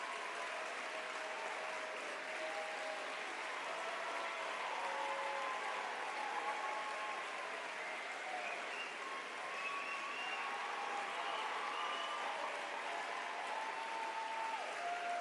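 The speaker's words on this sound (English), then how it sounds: "Let's give her a huge round of applause." A crowd at a national political caucus holiday party claps warmly in a continuous, even wave of applause, with faint cheering tones threaded through it.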